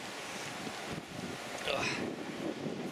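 Wind blowing outdoors near a small bridge construction site in Germany, a steady rushing buffet against the microphone with a few faint gusts, moderately quiet and without talk.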